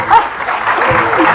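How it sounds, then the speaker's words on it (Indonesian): A studio audience on an Indonesian TV talk show gives a short burst of applause that sounds thin and scattered, like only a few people clapping. "Yang bilang ini bagus boleh kasih tepuk tangan"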